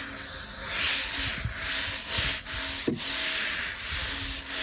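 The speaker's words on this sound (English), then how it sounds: "generously apply the product, and with a stiff scrubbing brush" A stiff scrubbing brush works over wet sandstone steps, giving a continuous bristly rasp in repeated strokes up close, with a few brief knocks between passes.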